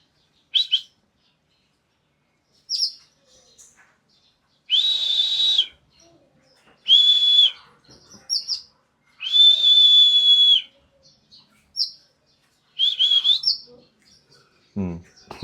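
A small caged songbird gives short, bright chirps and whistled notes at irregular intervals, separated by silence.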